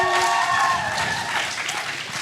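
A crowd at a graduation ceremony claps and cheers steadily, loud and close, for a couple of seconds with no talking.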